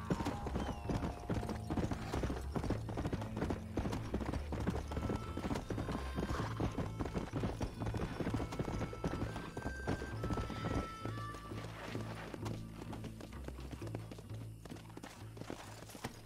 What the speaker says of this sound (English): Nossa, corrida de cavalo agora